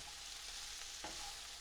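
Chicken sausage stir fry cooking in a pan: a faint, steady sizzle throughout, with a slight stir or clink around the middle.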